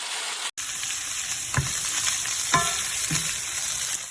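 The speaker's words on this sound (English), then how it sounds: "You can put in the little stir fry." Stir fry sizzles and crackles steadily in a 12-inch tri-ply stainless steel frying pan, a constant close hiss broken by a few sharper pops and stirring scrapes, with no talking.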